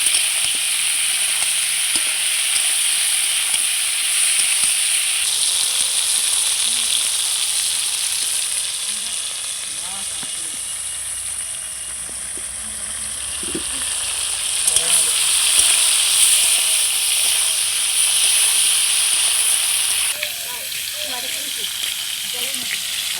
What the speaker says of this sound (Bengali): লবণ হলুদ দিয়ে খুব সুন্দর করে আমি ফুলকপিটাকে আবারও ভেজে নেব।